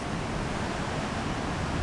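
A man-made waterfall at Silwane Nature Reserve in Bulawayo roars as a dense, unbroken rush of water, loud and close, with no voices.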